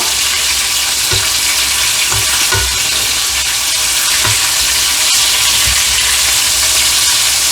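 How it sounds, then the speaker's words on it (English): Spaghetti sizzles and fries loudly in a pan, a steady close crackle with occasional soft thumps of stirring and turning, no voices over it. "Let's fry this bad boy up."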